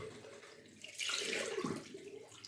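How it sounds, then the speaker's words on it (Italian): Hot water runs from a tap onto a puck of shaving soap, a steady splashing stream that swells louder midway and stays close and alone. "ci passo un po' di acqua calda e dopo prelevo il sapone"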